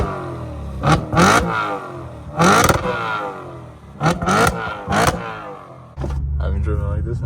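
Audi RS5 with a 4.2L V8 revs repeatedly during a night drive, with several sharp, loud blips rising and falling, then settling into a steadier engine drone, while a voice talks over parts of it.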